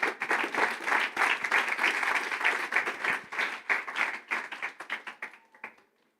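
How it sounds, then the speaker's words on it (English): Audience applause for a conference panel in a pavilion room, a dense burst of clapping that thins into scattered claps and fades out over about six seconds. "Big round of applause"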